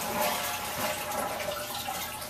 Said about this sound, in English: Now I'm going to flush that and dump the water that's in this reservoir